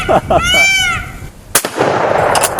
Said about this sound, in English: Alright, sent a couple of rounds downrange.